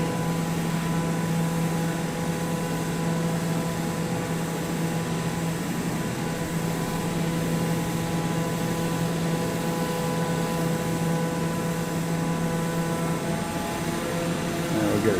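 A steady airplane engine drone hums in an IFR flight simulator, constant and unbroken throughout with tonal harmonics, no voices over it.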